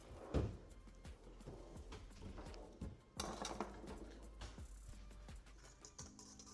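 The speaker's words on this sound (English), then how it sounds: "Let me whisk it up." Cinnamon roll cookie ingredients whisked in a bowl during a live baking session, a steady run of quick metallic clinks and scrapes throughout, with a brief louder clatter near the start.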